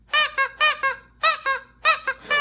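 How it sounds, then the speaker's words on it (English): Squeaky toy dog squeezed repeatedly, about nine sharp high squeaks in uneven pairs and runs, close and loud with no talk. "I just brought it home, so give it a few squeaks."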